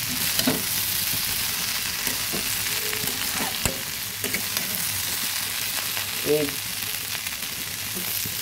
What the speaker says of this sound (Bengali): এই কুমড়ো বরবটি ভাজিটা একটু সময় দিয়ে করতে হবে